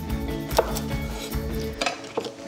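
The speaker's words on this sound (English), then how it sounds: "Going to add a bit of garlic, not too much. I'm just going to just cut it" A knife chops garlic on a board, with several sharp, close knocks spaced irregularly over a low kitchen background hum.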